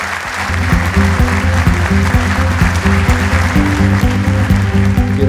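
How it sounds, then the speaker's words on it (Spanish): Loud, sustained applause from the audience at a national military judicial forum in Colombia, mixed with a rhythmic, pitched repeating pattern underneath that keeps going for several seconds. "acompañarlo con un fuerte aplauso"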